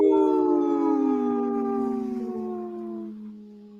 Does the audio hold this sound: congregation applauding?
no